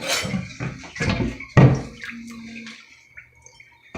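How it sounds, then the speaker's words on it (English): Water sloshing and gurgling out of a bathtub drain trap as the trap is rocked back and forth during a DIY bathroom remodel. Uneven splashes and drips with a few hard clunks, close and fairly loud, then trailing off into faint trickles. "we're going to rock it back and forth and get that water out of that trap"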